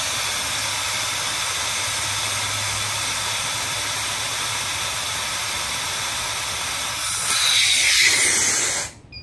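Pressurized gas rushes steadily through an R290 refrigeration condenser, blowing out leftover oil as a loud, continuous broadband hiss that surges louder and brighter near the end before cutting off abruptly.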